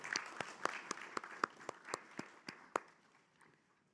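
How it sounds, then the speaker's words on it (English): An audience at a panel event applauds the panelists returning to their seats, a thin, sparse round of distinct claps that dwindles and fades out within a few seconds. "give them another big round of applause"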